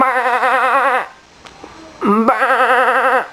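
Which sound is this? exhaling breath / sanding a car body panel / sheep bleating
sheep bleating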